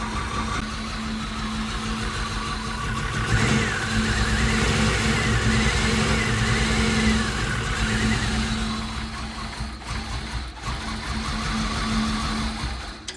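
A 1990 Pontiac 6000 SE AWD engine running roughly after sitting for over twenty years, a steady uneven idle with a droning hum and faint ticking, close by and alone.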